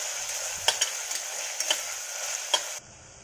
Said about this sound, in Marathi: आता हा कांदा चांगला परतून घ्यायचा इथे।